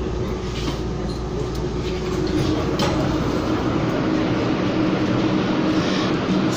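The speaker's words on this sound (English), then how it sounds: "So this is the C train I got off here at City Hall Station." A Calgary CTrain SD160 light rail train rumbles past on the rails with a loud, steady roar and clacking wheels, a squeal rising partway through; no voices.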